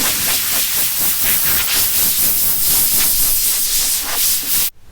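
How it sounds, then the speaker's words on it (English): Compressed air from an air compressor nozzle blows dust out of the wood grain of a homemade folding table, a loud close hiss in steady rough pulses that stops abruptly at the end. "So I've got my air compressor. I'm going to blow out all of the grains."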